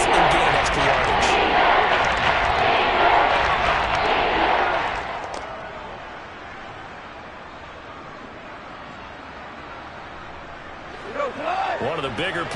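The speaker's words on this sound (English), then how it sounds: "the crowd getting into it as we come up on a big 3rd down" Stadium crowd noise in the Madden NFL 23 football video game, a loud roaring swell for the first several seconds that fades to a quieter murmur, then picks up again at the end with commentary-like voices talking over it.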